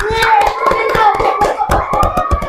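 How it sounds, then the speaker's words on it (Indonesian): A class of schoolchildren clapping for two student groups after a discussion, rhythmic hand claps with children's voices and chatter mixed in. "kita berikan tepuk tangan untuk kelompok 5 dan kelompok 3"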